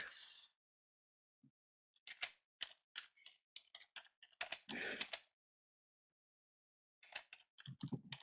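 Typing on a computer keyboard, scattered clusters of sharp, close key clicks with silent gaps between bursts.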